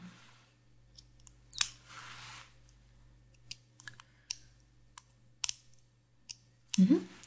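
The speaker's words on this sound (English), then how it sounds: "it is a clicking sound, but you have heard of it before" A flashlight switch clicked several times at close range, sharp isolated clicks spread irregularly through a quiet background, with one louder click near the end.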